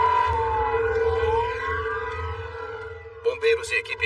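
Emergency vehicle sirens wail with rising and falling tones at a foggy plane crash site, steady and prominent, before a voice briefly speaks over the end.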